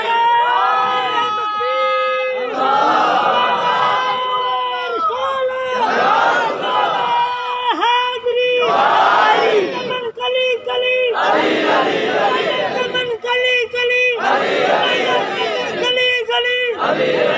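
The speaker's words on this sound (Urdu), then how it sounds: "علی دے ملنگ دے ٹھنڈے لاندے ہی نہیں نعرے" A large crowd at a devotional gathering shouts religious slogans together in loud, repeated surges of massed voices that rise and fall, with bursts of cheering between the chants.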